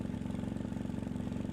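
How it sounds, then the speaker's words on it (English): A motorcycle engine runs through a Two Brothers M2 carbon fiber exhaust fitted with a P1 power tip, giving a steady, low, evenly pulsing idle burble, close and moderately quiet. "With the power tip, I think the exhaust seems to have more of a focused sound."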